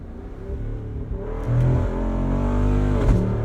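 A 2024 Jeep Wrangler 392 revs hard, its exhaust snarling with a deep, loud growl. The pitch steps up on an upshift, with sharp pops and snaps near the middle and again toward the end.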